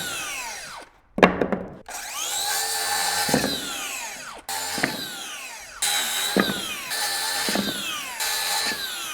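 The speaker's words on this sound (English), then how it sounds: "you just finish your cuts" A power saw cuts notches into a wooden board during fire blocking installation, making repeated loud whining passes that rise and fall, separated by short pauses and sharp clatters of wood.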